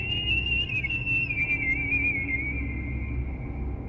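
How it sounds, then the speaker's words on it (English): A single sustained high-pitched whistle hangs over a low, rumbling stormy night backdrop, wavering slightly in pitch and fading gradually, steady and clear with no voices. "A high-pitched whistle coming from somewhere near the trees."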